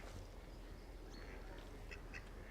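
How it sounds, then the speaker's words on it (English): Ducks quack intermittently at a reservoir, a few short calls standing out faintly over steady outdoor background noise and wind. "There's loads of ducks here, look."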